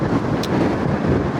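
Strong wind buffets the microphone outdoors at Helix Park near the Kelpies, a loud, continuous rumbling roar that holds steady throughout with no voices.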